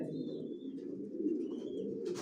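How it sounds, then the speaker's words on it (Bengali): A Janssen-line Maxi racing pigeon hen sitting on eggs coos in the loft, a soft, low, rolling coo that runs continuously and close, with faint higher chirps above it. "জনসন লাইন, লংয়ের কবুতর দিয়ে শর্ট পিডের লং সবভাবে রেস করা যায়"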